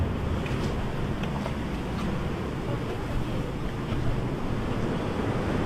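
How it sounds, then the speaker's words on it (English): Large ocean waves break at a beach in Bali, making a continuous loud roar of surf mixed with heavy wind buffeting the microphone, with no voices. "the waves over here are freaking huge too"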